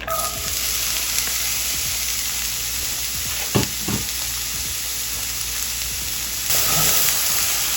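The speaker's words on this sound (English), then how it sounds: "Drop the veggies in there." Onion and pepper sizzling in a tablespoon of olive oil in a skillet, a dense, steady hiss close by with a few soft clatters, growing slightly louder near the end.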